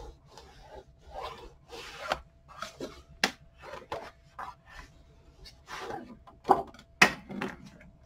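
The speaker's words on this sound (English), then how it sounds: "Burnish it really well." Paper is burnished by hand onto a December Daily 2022 journal cover in a series of quiet, close rubbing and scraping strokes, separated by brief pauses and a few sharper taps.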